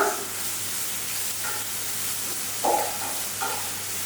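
A mix of ginger, garlic, shallot and chili sizzles gently in hot oil as it is stirred for a Kerala moru curry, a close, steady frying hiss with a few scraping stirs and no talking.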